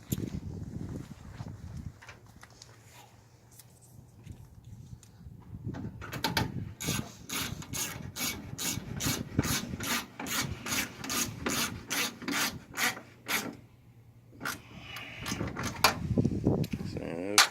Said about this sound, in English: Put this 8mm bolt back in.